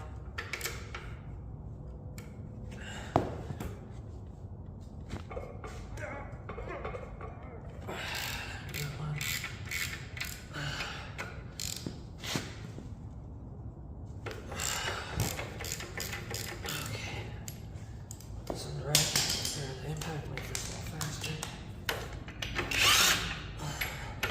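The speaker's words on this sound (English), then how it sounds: "we're gonna remove these two 18mm bolts real quick and then slide our rotor off" Two 18mm bolts come off the rotor of a Sterling 10.5 one-ton axle during a teardown, with bursts of power tool whirring and ratcheting clatter, intermittent and close, alongside shop noise and some talking.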